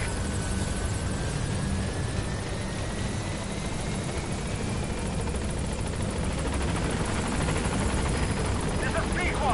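Pequod helicopter from Metal Gear Solid V: The Phantom Pain arriving at a landing zone, a steady loud rotor and engine roar holding throughout with a faint rising whine, and radio-style talk over it.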